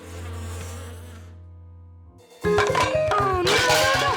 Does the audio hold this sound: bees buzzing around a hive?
yes